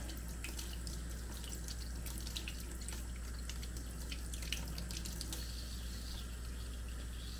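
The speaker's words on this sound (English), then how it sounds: "you just rinse it out" A GSI Outdoors Rocket coffee screen being rinsed, with faint trickling and dripping water over a steady low background hum, quiet and continuous.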